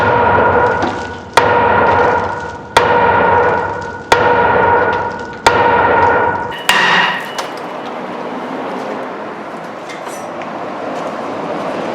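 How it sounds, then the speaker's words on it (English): A hammer strikes the rear brake rotor of a 2007 Chevy Silverado five times at an even pace. Each blow is a loud, sharp metallic bang with a brief ringing tail, and a quieter, rougher clatter follows. "we're going to take our hammer and give it a bang in the back over here"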